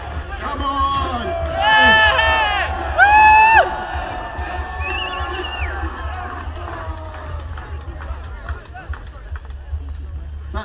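Outdoor crowd at a rainy Bannockburn event cheering and shouting in loud swells that peak twice, with raised voices and babble continuing beneath.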